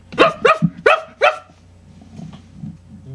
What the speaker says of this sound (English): When I'm done moving this watch, you will bark like a dog.